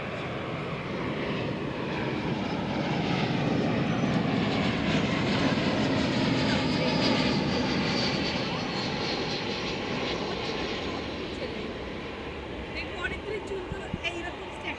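American Airlines passenger jet at DFW Airport, a loud sustained roar of jet engines that swells and slowly fades over fifteen seconds, with a voice talking over it.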